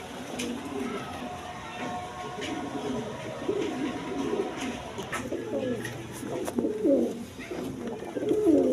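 Pigeons coo softly and repeatedly at a pigeon sale, low and steady through the background, with faint voices in the market.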